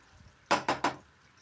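A lid set onto a pot of thick curry gravy on a switched-off stove, three quick close metallic clanks in a row, then quiet.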